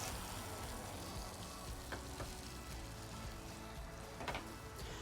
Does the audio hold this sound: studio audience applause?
no